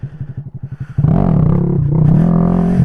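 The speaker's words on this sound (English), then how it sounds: "this can really do a clutch up wheelie" A big bore Honda Grom MSX125 motorcycle idles with a fast, pulsing thump, then its engine is revved hard and held high for a clutch-up wheelie, loud and close.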